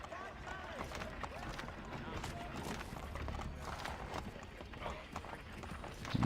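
Horse hooves clip-clop in a quick, steady galloping rhythm in the video game Assassin's Creed 3, with someone talking over them.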